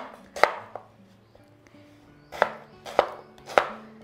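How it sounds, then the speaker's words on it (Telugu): Raw mango cut into small pieces with a knife on a chopping board: four sharp, close chopping strikes, one alone and then three in a quicker run, with quiet handling noise between them. "కొన్నేమో చిన్న చిన్న ముక్కలుగా ఇలా కట్ చేసుకున్నాను డైరెక్ట్గా తాలింపులో వేయడానికి"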